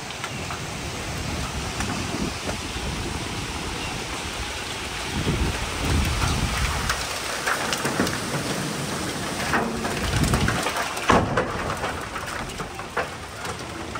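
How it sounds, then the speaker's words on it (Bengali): Gusty wind with light rain ahead of a storm, a continuous broadband rush that swells and eases over the whole stretch, fairly loud and close, with no voices. "বাতাসে উড়ে নিয়ে যাচ্ছে ধীরে ধীরে একটা বৃষ্টিও হচ্ছে"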